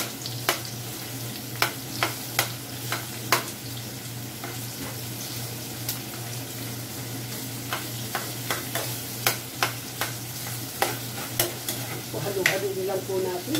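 Onion sizzles while frying in oil for spicy adobo chicken feet, with a continuous crackling hiss punctuated by repeated sharp clacks of a utensil stirring against the pan, close and fairly loud, with a low steady hum underneath.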